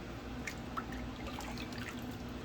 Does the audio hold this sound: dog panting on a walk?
no